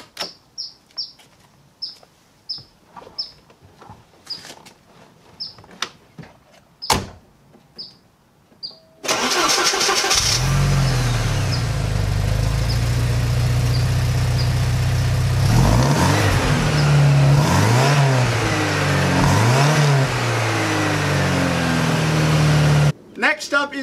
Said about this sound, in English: it's a 4-cylinder, and that's not usually a recipe for window-shattering sound.